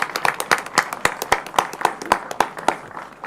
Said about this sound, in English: Round of applause for Balaji, guys